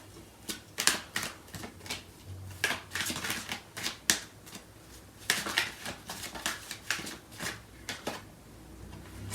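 Tarot cards being shuffled and drawn at close range, a rapid run of crisp, papery flicks and taps in uneven bursts, fairly quiet and with no voices.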